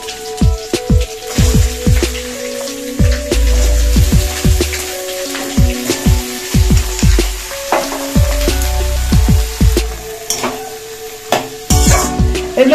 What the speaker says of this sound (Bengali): এর মধ্যে যে সবজিগুলো বললাম আমি কেটেছি সেই সবজিগুলো দিয়ে দিচ্ছি